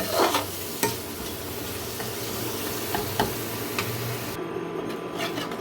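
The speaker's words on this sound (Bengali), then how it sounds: "এখন আমি এই মশলাগুলোকে খুব ভালো করে কষিয়ে নেব" Turmeric and Kashmiri red chili powder sautéed in a pan for a vegetarian jackfruit curry, with a constant close sizzle and scattered scraping stirs of the spatula, and no talking.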